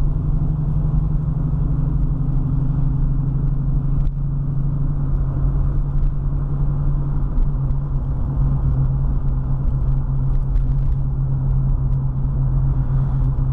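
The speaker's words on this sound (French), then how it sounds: "On sent les vitesses qui passent au bon régime, au bon moment." A 1970 Ford Mustang Coupe engine accelerating through its gears, a steady, loud low rumble with a droning engine tone that holds and shifts slightly, heard without any voices.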